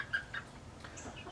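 Chickens in a coop, faint clucks and soft bird calls against low background noise, a couple of brief sharper notes near the start.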